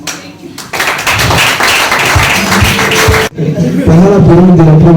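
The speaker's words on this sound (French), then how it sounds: "Je demande de faire un max d'applaudissements pour les propriétaires de la veste." Loud, close audience clapping at a live comedy show, dense and continuous with a brief dip partway through, with some voices and cheers audible.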